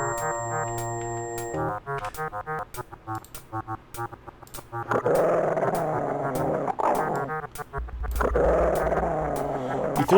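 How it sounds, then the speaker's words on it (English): A dog growls and grunts while eating animal guts in the video game Waxworks, rough guttural snarls over chunky synthesized game sounds and tones, with several louder bursts toward the end and no voices. "You throw the animal guts to the dog and he eats it."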